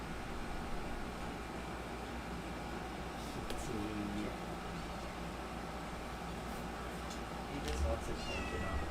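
A cat named Clover meows for attention indoors, a few short cries rising over steady background hiss while a person talks nearby.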